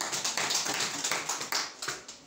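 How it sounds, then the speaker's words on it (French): Audience at a farmers' union presentation applauding a participant, a dense ripple of many hands clapping at moderate distance, steady for a couple of seconds before thinning out. "Applaudissez pour lui"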